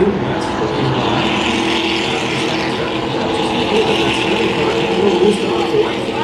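Jr Spec Late Model race cars racing at Irwindale Speedway, a loud continuous engine roar that swells and holds as cars run in a group, heard from trackside with a dense, blended drone.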